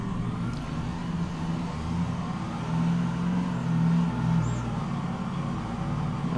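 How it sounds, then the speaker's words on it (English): A lowered BMW in a driving video game runs with a low, steady engine drone that swells into a moderate rev partway through, sustained and close. "I think this is a lowered BMW."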